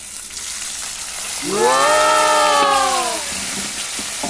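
Tomatoes hit a pan of golden-browned onion and garlic, producing a constant frying hiss beneath a voice that briefly exclaims in the middle.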